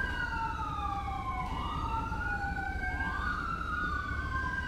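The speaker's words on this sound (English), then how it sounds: "And where are these sirens that I can hear?" Emergency vehicle sirens wail in the GTA LSPDFR police game, two overlapping rising-and-falling tones sweeping steadily over a rumbling engine bed, loud and continuous with no talk.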